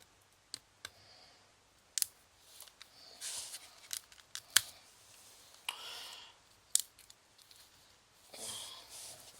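Scissors snipping and plastic packaging crinkling as a Final Fantasy TCG starter deck is opened, scattered sharp clicks and cuts between soft rustles, close and quiet with no talking.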